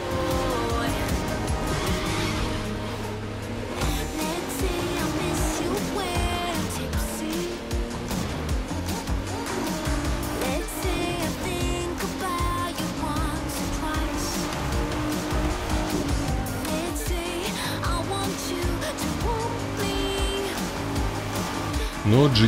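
A Nissan GT-R races in The Crew 2, its engine a steady, loud drone with rising and falling revs throughout, overlaid with game music and a voice talking.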